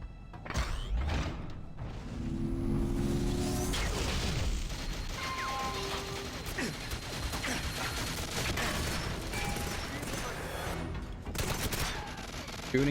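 Steady gunfire from GoldenEye 007 on the Wii, dense bursts and rapid automatic volleys running nearly nonstop with loud booms, talk faintly mixed in underneath.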